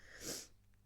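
One short, close sneeze from a person, a quick sharp burst followed by quiet.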